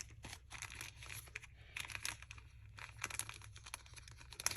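A paper package is cut open across the top, giving close, quiet crinkling and tearing with irregular snips and rustles in short bursts, with no talking.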